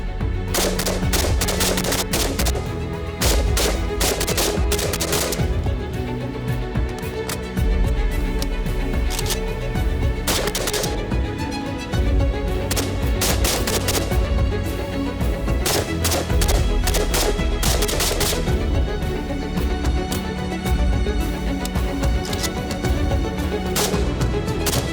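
A Zastava ZPAP M70 AK rifle fires in sharp, loud shots and quick strings of rounds, with brief pauses between bursts.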